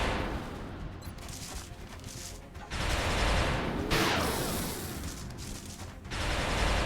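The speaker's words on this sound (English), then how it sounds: "Suppress and flashbang this brute." Bursts of suppressive gunfire and a flashbang blast in XCOM: Enemy Unknown come as dense, loud volleys of crackling shots with sharp booming hits in between, with no voices.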